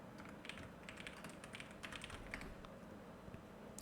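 Typing on a computer keyboard, a quick irregular run of soft close key clicks over faint room noise, with no talk.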